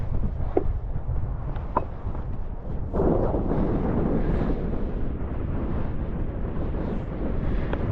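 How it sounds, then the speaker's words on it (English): Strong, steady wind roars and buffets across the microphone at a hillside wild camp in the Lake District, with a few faint knocks early on. "Yeah, that wind's definitely picked up now."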